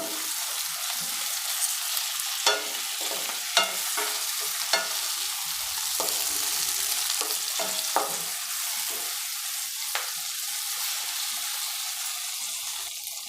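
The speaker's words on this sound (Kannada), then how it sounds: "ಹುಣಸೆಹಣ್ಣು ಹಾಕಿ ಈ ಥರ ಫ್ರೈ ಮಾಡ್ಕೊಳೋದ್ರಿಂದ" Tamarind frying in a pan for a hulí saaru with hyacinth beans, a steady sizzle broken by sharp scrapes and clicks of a stirring spoon at irregular intervals, close and moderately loud, with no talking.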